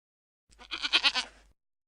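A single goat bleats once, a wavering, nasal cry about a second long, close by and clear against a quiet background, during goat yoga at a farm in Dorion.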